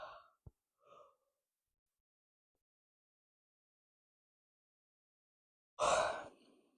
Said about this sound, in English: I guess we're yawning again.